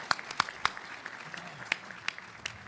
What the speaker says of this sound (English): how about a big round of applause for that?